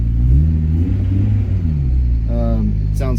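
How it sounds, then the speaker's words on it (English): A 2000s Acura RSX Type S (DC5) idles with a Spoon N1 axle-back exhaust, giving a loud, deep, continuous rumble close by, and a voice briefly speaks over it near the end. "You could hear the Spoon N1 axle back exhaust in the back."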